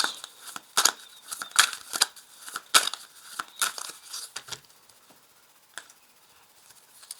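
Oracle cards being shuffled and cut into two piles, giving a run of crisp riffling snaps and slaps that bunch together early and then thin out to a few scattered flicks, close and fairly soft.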